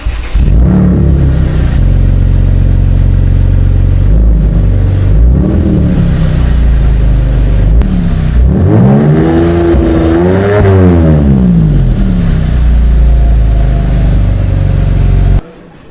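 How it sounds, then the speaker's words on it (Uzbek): A Mercedes-Benz CLS engine revving steadily, loud and close, rising to a strong rev in the middle before settling back to a throaty idle and cutting off at the end. "Endi bu mashina bitta ovozini eshitamiz."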